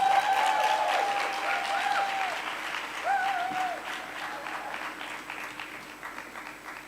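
An audience applauds to welcome the host at a storytelling evening, the clapping loudest at first and fading gradually, with faint voices and cheers rising over it.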